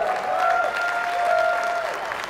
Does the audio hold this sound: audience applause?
yes